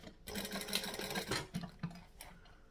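A sewing machine stitching through vinyl for quilting runs in bursts of rapid mechanical whirring, starting and stopping several times, close and moderately loud with no speech.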